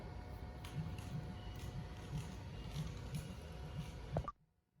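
Labeling machine running in a steady mechanical rhythm with regular repeating clicks and a constant hum, close and moderate, ending abruptly as it stops.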